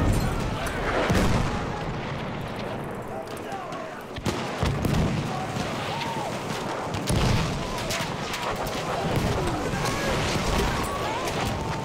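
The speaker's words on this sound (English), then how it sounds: "Grenade out! My grenade!" A grenade explodes in Battlefield 1 amid a loud battlefield of rumbling artillery and scattered gunfire, with heavy booms standing out from the constant din of war.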